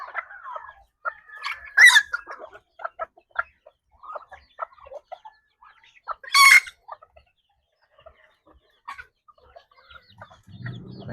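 Bantam chickens cluck and chirp in scattered bursts, with two louder squawks standing out, against a quiet background and no speech.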